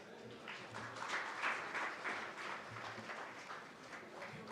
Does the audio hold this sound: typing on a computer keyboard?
no